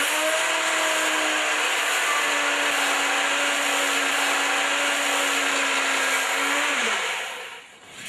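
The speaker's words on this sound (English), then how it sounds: "I'm going to use an electric knife in a moment to cut the bread." Electric knife sawing through a loaf of no-knead bread, a loud continuous motor whine with a steady buzzing blade held for about seven seconds before cutting off.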